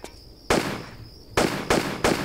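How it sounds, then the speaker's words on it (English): Pistol shots in the game Tomb Raider Chronicles: four loud, sharp reports, the first alone and the last three coming about every half second, each with a short decaying tail, and no talking. "Pistol sounds are different."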